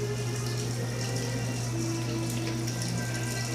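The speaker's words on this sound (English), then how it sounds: "now I'm going to pour the water" Water poured into a hot cooking pot on a gas stove gives a steady, faint rushing and hissing pour under a low constant hum, without a break.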